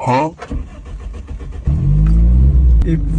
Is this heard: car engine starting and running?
yes